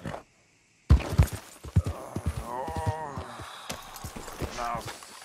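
Horse hooves clip-clop in Red Dead Redemption 2, a quick run of close, sharp hoof strikes on hard ground after a brief silence, continuing steadily with some rattling and voices mixed in.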